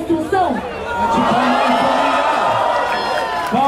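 A crowd at a rap battle cheers, whoops and shouts loudly in a sustained roar that swells and holds, with excited voices mixed through it.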